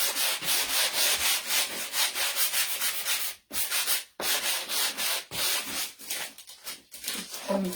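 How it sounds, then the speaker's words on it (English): Light hand sanding over a wooden snowflake sign to make it look older, close rhythmic scratchy strokes broken by short pauses, with no speech. "I'm lightly trying to sand over this as well."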